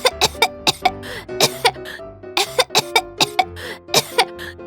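A woman coughs loudly and repeatedly from kitchen smoke while fish is being fried, harsh bursts in quick clusters with short gaps between them.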